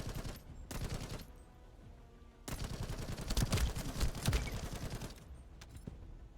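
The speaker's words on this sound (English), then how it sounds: "the bullet impacts are very beefy" In the shooter game The First Descendant, bursts of rapid automatic gunfire with heavy, thumping bullet impacts come in two clusters around a short lull, moderately loud with no speech.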